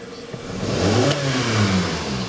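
Hyundai engine with a throttle control fault revving once, pitch rising and then falling away, with a mid-pitched roar close by and no talk.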